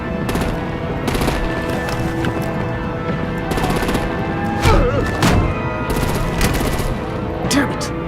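Rapid artillery and machine-gun fire rattles on continuously in a Batman: The Enemy Within game scene, dense bursts with heavier thuds layered throughout, loud and close.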